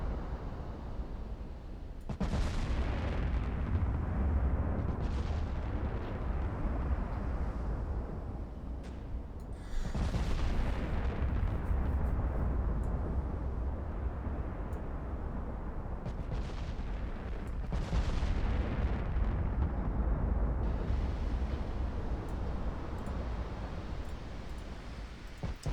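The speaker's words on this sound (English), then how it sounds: "Let's fire a high explosive salvo." Battleship high-explosive salvo in the naval video game Ultimate Admiral Dreadnoughts: several loud, heavy booming gun blasts with rumbling tails recur every few seconds over a continuous dense roar.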